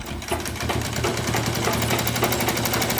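A sewing machine runs steadily, stitching a fabric strip for a handmade hand fan, its fast rhythmic needle chatter continuous and close throughout.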